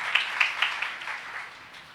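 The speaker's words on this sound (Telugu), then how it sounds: "గట్టిగా చప్పట్లు కొడదాం." Congregation clapping at a Sunday church service, a short burst of claps that starts sharp and fades into a softer, scattered patter.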